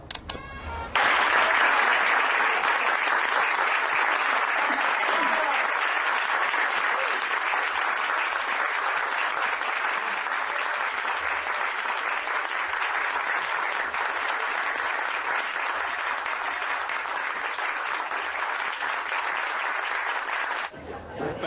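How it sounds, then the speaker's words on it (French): Sustained audience applause after a theatre play, a dense even clapping from a large crowd that starts abruptly and holds steady at full strength for about twenty seconds before cutting off. "Hé, tu as entendu les applaudissements?"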